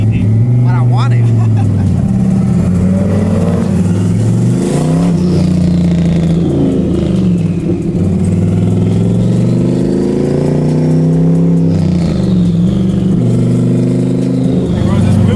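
A wrapped car called Quicksilver drives and revs loudly up close, its engine note rising and falling in steady swells, with people talking over it.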